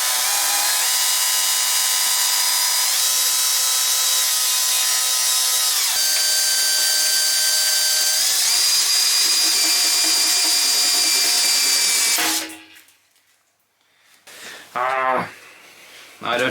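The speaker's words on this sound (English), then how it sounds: "I go first with smaller size drill and then switch to bigger one." An electric drill bores into metal while assembling an electrical box for a Suzuki GN250 motorcycle, a steady high whine running about twelve seconds with pitch shifts under load, then stopping and briefly spinning up again.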